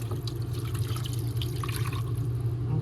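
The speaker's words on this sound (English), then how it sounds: "now I'm gonna add in my beef broth because we don't want no dried out roast" Beef broth is poured over a pot roast in a roasting pan, making a steady, close, trickling and splashing liquid sound for a few seconds with no talk.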